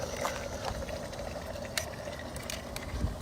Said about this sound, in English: Nice, we are bubbling.